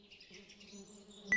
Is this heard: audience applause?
no